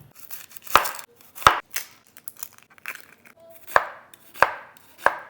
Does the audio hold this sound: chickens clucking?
no